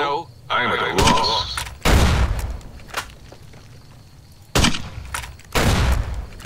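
Several heavy sniper rifle shots in Fallout New Vegas, booming cracks spaced a second or more apart with decaying echoes, loud and close, a voice talking faintly between them.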